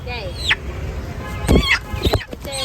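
Nearby chickens and a rooster clucking and squawking in short bursts at a Holi market in Vasai, mixed with a few people's voices in the background.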